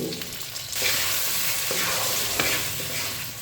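Potato, tomato and green chillies sizzle in a pan while a spatula stirs them, giving a steady close frying hiss with a few scraping strokes over it.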